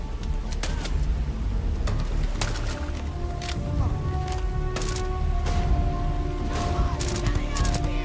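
Gunfire bursts in the space shooter Starfield, scattered shots and short volleys over continuous game music and ambience, with a voice talking over the action.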